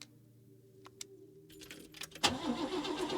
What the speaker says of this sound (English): It won't start.